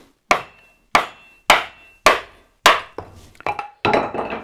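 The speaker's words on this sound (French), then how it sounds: "on va fendre notre planche avec la hache" Axe strikes splitting a wooden plank: five sharp, evenly spaced blows, then a quicker run of cracking hits as the wood splits apart, close and loud.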